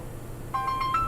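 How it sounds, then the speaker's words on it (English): A mobile phone sounds off during a podcast about martial arts, sounding a few short electronic tone beeps that start abruptly after a quiet moment and stay close. "So that sound you heard was Moosah's phone."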